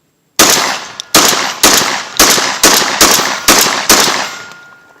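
Mossberg 930 SPX semi-automatic shotgun firing Winchester Universal shells, seven loud close booming shots in a steady rapid string, each with a clanging ring as the action cycles.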